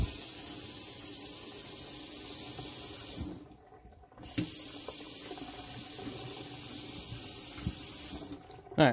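Water runs steadily from an RV sink faucet, a close, even hissing stream that cuts off briefly around the middle with a couple of clicks and knocks, then resumes flowing before stopping at the end.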